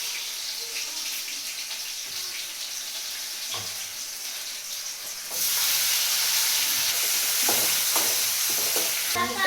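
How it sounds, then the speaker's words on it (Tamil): Onions hit hot oil in a heated kadai for paneer fried rice. A soft background hiss swells into a loud, continuous sizzle partway through, followed by a few scraping stirs. "கடாய் காஞ்சிருச்சு. வெங்காயம் போடுவோம்."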